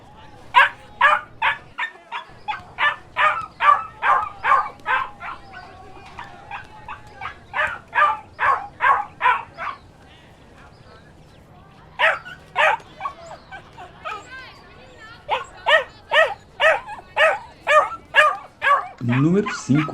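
Dogs and puppies barking, rapid trains of sharp, high yips and barks in bursts with short pauses, close and loud, with some whimpering between.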